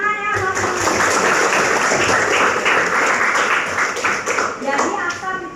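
Classroom applause during a volcanism lesson, a dense steady wash of many hands clapping together for several seconds, with voices mixed in near the end as it fades.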